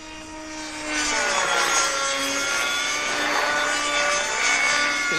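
A radio-controlled helicopter performs a Cobra roll aerobatic maneuver, its rotor and motor whining steadily at high pitch and swelling louder after the first second, with no talk.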